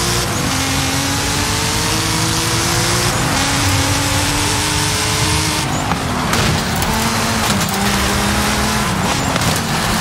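A powerful NASCAR race car engine in Forza Horizon 5 revs and climbs through the gears, loud and close, with rising whines, shifts and brief tire squeal, no talking.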